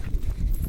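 A horse long-reined in a circle strikes the ground with soft, heavy hoofbeats, a close, regular thudding rhythm across a brief stretch.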